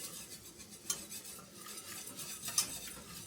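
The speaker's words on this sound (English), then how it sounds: "We want to keep whisking it." Flour is whisked into melted butter in a pan for an au jus sauce, a quiet continuous scraping and swishing with a couple of sharper metallic clicks of the whisk against the pan.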